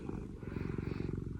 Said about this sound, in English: Real purrs, lots of cuddles.